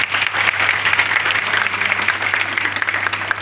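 An audience gives a loud round of applause during a bridal makeup session, a dense, continuous patter of many hands with a low steady hum underneath, filling the room throughout.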